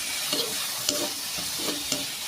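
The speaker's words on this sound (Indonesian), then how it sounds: "Kemudian masukkan daging ayamnya, kita aduk sampai berubah warna" Chicken pieces stirred and frying in a pan for grilled coconut chicken rice, with a steady sizzle and a few sharp scrapes of the spatula spaced through the clip.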